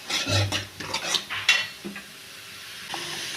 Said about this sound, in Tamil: வெங்காயம் இதையும் நல்லா வணக்கிக்கலாம்.